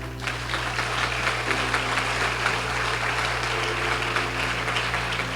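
Church congregation clapping during a Spanish-language sermon, a continuous dense patter of many hands with a steady low hum beneath, sustained at even loudness throughout.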